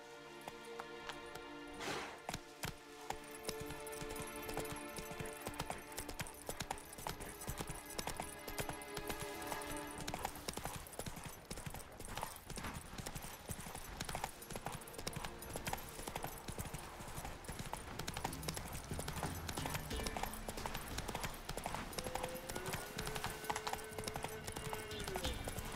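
A horse gallops in The Witcher 3, its hooves drumming in a fast, steady clip-clop for the whole stretch, and at times it snorts or whinnies. A voice talks over part of it.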